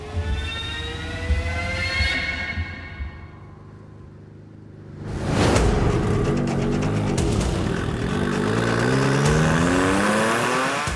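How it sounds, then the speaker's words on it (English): Race-prepared Ford Transit vans leave the start line on a long 90-mile road race, engines revving hard with rising pitch, a drop during a missed shift, then a dense loud roar of several vans accelerating past. "he pulled off in first, it sounded pretty good, and then he went for second and missed second"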